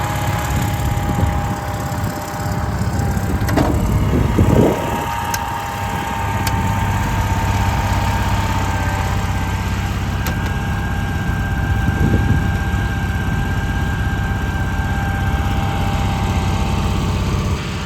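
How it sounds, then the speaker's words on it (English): Generator on a 1973 GMC RV running steadily after a start-up burst, a loud continuous engine drone throughout with no talk. "I'm going to go ahead and start the generator. The generator started."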